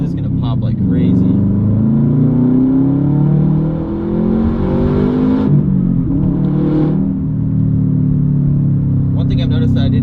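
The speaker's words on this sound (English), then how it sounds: "It does have a little bit of popping here and there with the open downpipe" A 2015 Subaru WRX STi boxer turbo engine with an open downpipe drones and pulls up through the revs, dips sharply on a gear change, then climbs again, heard from inside the car with occasional pops.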